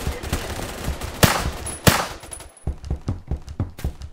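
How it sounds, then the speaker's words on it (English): Video game gunfire: rapid automatic bursts and sharp single shots crackle in quick succession, with a couple of louder blasts standing out and short gaps between volleys. "Kyle, stop shooting."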